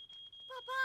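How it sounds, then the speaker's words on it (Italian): A smoke alarm set off by burnt toast gives a steady, piercing electronic tone through the first half, fading out as a voice starts speaking over it. "Ho bruciato un toast e ho fatto scattare l'allarme antincendio."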